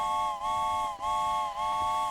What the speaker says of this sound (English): Train whistles all day, every day